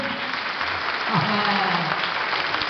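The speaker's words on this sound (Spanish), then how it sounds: "A ver cómo aplauden." Applause from a school audience at a Joselitango Garufa tango show, a steady wash of clapping across the whole stretch, with a voice briefly rising through the middle.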